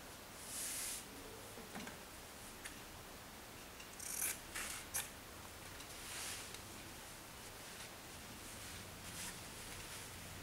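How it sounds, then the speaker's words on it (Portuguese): Sharp scissors slice through folded fabric while sewing a zipper, giving a few quiet, close snips and rasping cuts spaced irregularly over a soft background hiss. "Eu corto, eu dobro aqui o tecido, como é que eu geralmente corto?"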